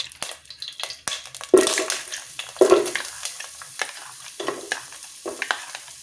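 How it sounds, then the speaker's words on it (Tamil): Onions and green chillies fry in ghee in a pan, a steady close sizzle broken by several louder bursts of stirring and scraping, with no talk. "வெங்காயத்தையும் ஆட் பண்ணியாச்சு. நல்லா வதங்கட்டும்."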